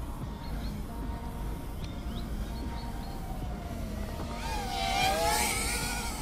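Eachine QX90C PRO micro FPV drone flying nearby, a thin high-pitched motor whine that holds steady and then rises and bends in pitch as it speeds up and maneuvers, with no talk.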